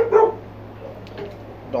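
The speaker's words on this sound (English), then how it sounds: "Dogs are barking downstairs." Several dogs barking from downstairs in a house, a few muffled yips and barks heard at a distance, with a person talking nearby over them.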